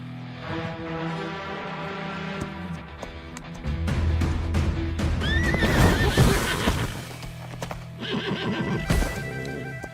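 A horse's hooves clip-clop steadily alongside loud neighing and whinnying, rising into a busier stretch of stamping and snorting with a background musical drone.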